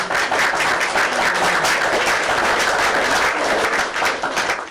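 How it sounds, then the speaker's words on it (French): Listeners at a French-language political broadcast applaud for their president, a sustained, fairly loud patter of many hands clapping for nearly five seconds before tapering off at the end. "Applaudissez donc pour votre président."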